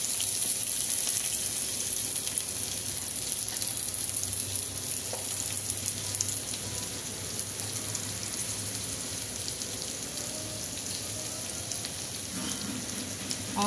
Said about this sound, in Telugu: ఆనియన్స్ వెల్లుల్లి బాగా మగ్గాలి.